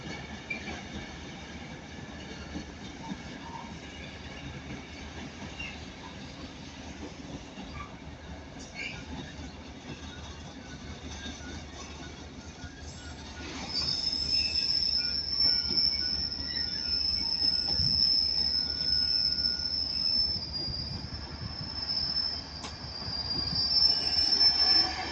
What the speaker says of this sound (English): And there goes 323-230 going from Manchester Piccadilly to Crewe.